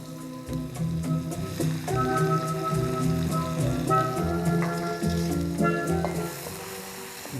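Onion and tomato sizzling in hot oil in a pan, a steady crackling hiss that carries on throughout, close and moderately loud, with faint background tones.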